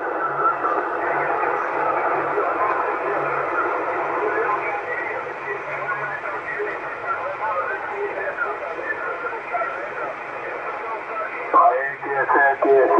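CB radio transmission coming through the set: a band-limited, tinny voice with hiss and crackle runs steadily throughout, with a burst of louder static near the end.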